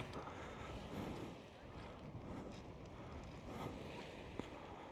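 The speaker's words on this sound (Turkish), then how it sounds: "Ama bugün aşırı rüzgarlı." Strong wind buffets the microphone in a constant roar at a seaside cove in Urla, Izmir, with a faint wash of sea water in the background.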